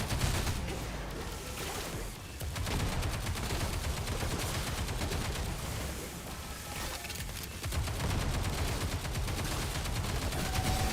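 Rapid, continuous gunshots fired at orbs in Stellar Blade, a dense machine-gun-like fusillade running steadily throughout at a moderate level.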